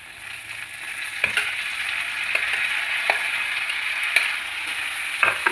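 Onion sautés in oil with ginger and garlic for tomato rice, a steady near sizzle broken every second or so by brief scraping strokes of a stirring spoon, without any voices.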